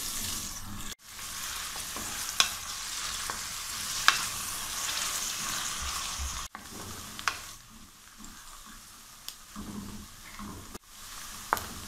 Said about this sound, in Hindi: प्याज को भी हम इतना पकाएंगे कि इसका कलर चेंज हो जाए और इसका कच्चापन ख़त्म हो जाए।